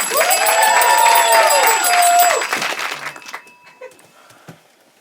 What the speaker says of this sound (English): big round of applause for Fresh Choice